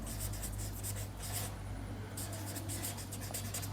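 A pen or marker scratches steadily across a surface as mountain range names are written, a faint continuous rubbing over a low steady hum.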